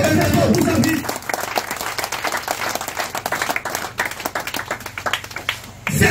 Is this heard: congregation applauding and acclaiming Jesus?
yes